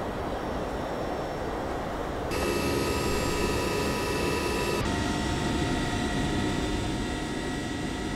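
Simulated Boeing 767-300ER jet engines in X-Plane 11 give a steady cabin drone that shifts tone in two abrupt steps as the engine setting changes, continuous and moderately loud.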